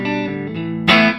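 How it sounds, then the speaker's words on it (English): Electric guitar on the neck pickup straight into an amp with no pedals or effects, a short sustained chord followed by a sharper, brighter strum near the end. "Here's the neck pickup."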